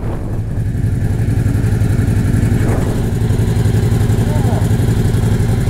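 A Suzuki Hayabusa motorcycle engine runs steadily nearby with a loud, continuous low throb on a hillside road, while people talk over it.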